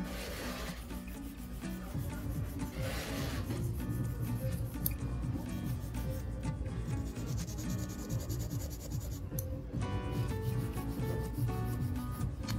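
An artificial coffin-shaped nail is filed with a 155 grit nail file, giving a continuous dry rasping and rubbing that runs steadily at close range with brief variations in stroke, no talking.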